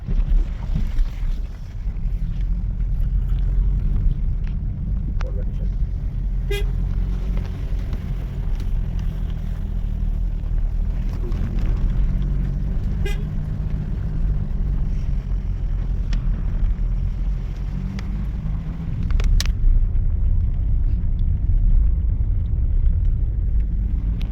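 A car creeping along a rough mountain road in Sikkim, with a steady low engine rumble, wind buffeting the microphone and occasional knocks from the uneven surface.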